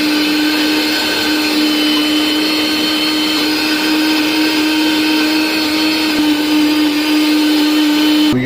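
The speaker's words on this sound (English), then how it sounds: "We have to grind our boiled sweet corn." A blender grinds boiled sweet corn in one loud, continuous motor whine that holds steady and close for the whole stretch, with no talking.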